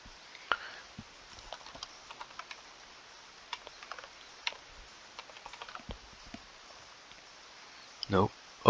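A number being typed on a computer keyboard, with quiet, scattered key clicks and taps under low room noise, ending with a couple of louder clicks.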